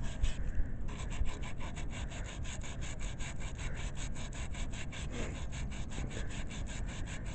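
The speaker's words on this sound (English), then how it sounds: "take a piece of sandpaper and polish up your magnet" Sandpaper is rubbed back and forth against the magnet on a Briggs & Stratton small-engine flywheel, giving a steady run of quick, even scratching strokes up close with no talking.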